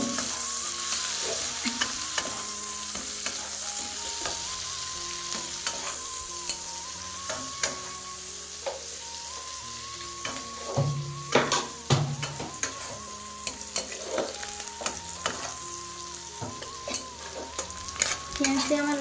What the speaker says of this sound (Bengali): পেঁয়াজগুলিকে একটু লাল লাল করে ভেজে নেব।